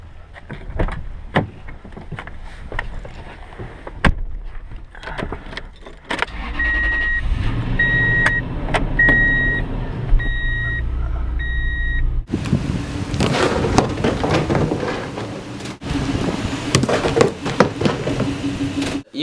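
A pickup truck is driven into a trash can on a home driveway. Engine rumble and door and electronic beeps are heard first, then a louder, rougher burst of noise midway that continues to the end, with no talking.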